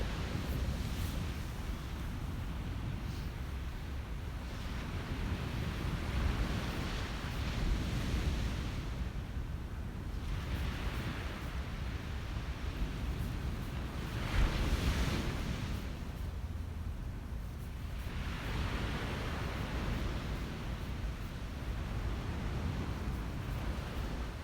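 Sunrise on a beach: steady wind buffets the microphone while ocean surf rolls and swells in slow waves under a continuous low rumble, with no voices.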